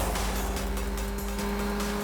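A car engine hums steadily under a rumbling low drone, continuous and moderately loud, without any voices, consistent with a vehicle speeding away.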